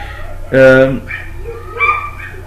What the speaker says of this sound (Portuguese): Tem aqui vários cachorros na rua gritando